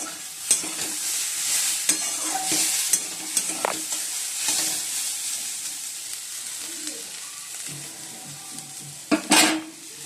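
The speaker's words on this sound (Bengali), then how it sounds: "এবার সিম আলু গাজর ভাজা বসিয়ে দিয়েছি।" Beans, potatoes and carrots sizzle in a hot pan while a spoon stirs and scrapes, with occasional clinks of metal against the pan.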